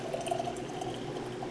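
Water is poured into a vinegar brine for pickled beets, a short, close, continuous splashing trickle with no one speaking.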